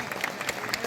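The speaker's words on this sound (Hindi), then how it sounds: "आपकी तालियां बहुत कमजोर हैं" Audience at an outdoor poetry gathering during a Ramlila festival gives a short, fairly faint burst of scattered applause, a dense wash of claps with a murmur of crowd noise.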